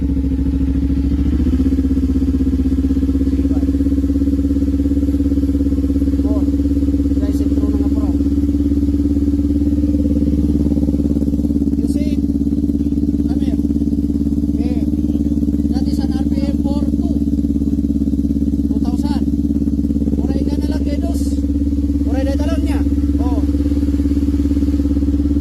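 A motorcycle fitted with a loud muffler idles steadily at about 2,500 RPM with a deep, constant engine drone, while people talk intermittently over it.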